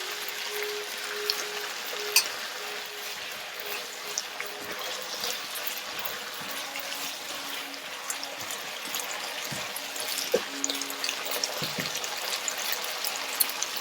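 Cashew chicken stir-fry with Thai chili paste bubbles and sizzles in a pan after stock and stir-fry sauce are added, a steady close hiss with light liquid trickling and occasional soft clinks.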